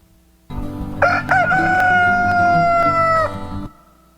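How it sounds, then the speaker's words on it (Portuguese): A rooster crows once, a loud, drawn-out call lasting about three seconds, close and clear. "O cantar do galo."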